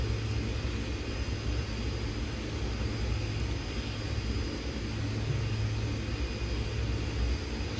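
Aircraft engine in the X-Plane 10 flight simulator during a flight from Saba to St. Barts, a steady loud droning hum with no clear rise, heard alone.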